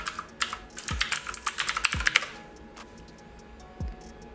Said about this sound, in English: In the address bar, we'll type in boinc.bakerlab.org.